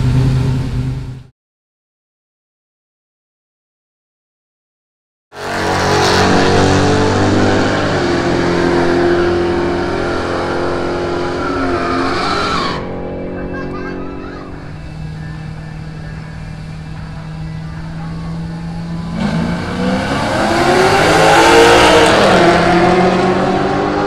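A car engine revs up loudly to around 3,000 rpm, holds a high pitch, drops, then climbs again after a short silence near the start.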